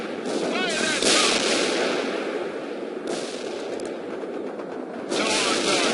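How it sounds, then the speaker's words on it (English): TOW missiles and gunfire in the World in Conflict strategy game, loud booming launches and blasts repeating every second or two over continuous battle noise, with radio-style voices talking. "Fire that tow."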